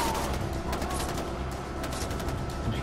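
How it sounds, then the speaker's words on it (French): Gunshots from Far Cry 4 crack out in scattered sharp bursts over a steady wash of in-game ambience, moderately loud and somewhat distant. "Il y a un mec qui me tire dessus, mais je vois pas."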